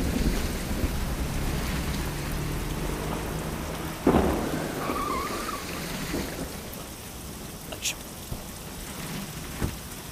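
Rain pouring steadily in a dense, constant hiss, with a low thunder rumble and a few scattered louder splashes and knocks.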